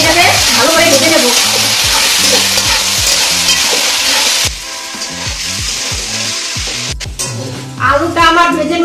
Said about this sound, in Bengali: এখন নেড়ে চেড়ে এটাকে ভালো করে ভেজে নেব